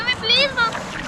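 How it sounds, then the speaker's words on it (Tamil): Water splashing as a boy bathes and throws water around while standing in a lake at Echo Lake Beach, New Hampshire, with short bursts of splashing mixed with children's voices close by. "இப்பொழுது தண்ணிக்குள் நின்று அருமையாக தண்ணியை தூக்கி வாரி இறைத்து"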